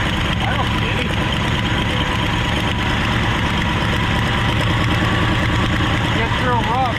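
Abandoned 1968 Ford XL engine idling steadily and roughly, with a continuous low rumble throughout and no clear change in revs; voices can be heard faintly over it.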